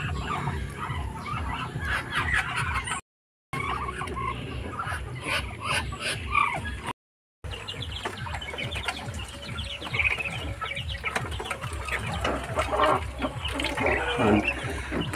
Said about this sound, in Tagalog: Tapos dito may humalong manok.